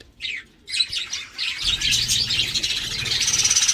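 Pet birds chirp and tweet in quick high bursts, close to the microphone, with a dense overlapping chorus building toward the end over a low background rumble.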